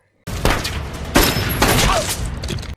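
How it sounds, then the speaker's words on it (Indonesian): Battle gunfire from the 2016 war film Hacksaw Ridge: several loud, sharp bursts of shots with booming impacts, close and harsh, arriving in three or four distinct clusters over a few seconds. "Akhirnya Sersan Howell berhasil menembak tentara Jepang itu."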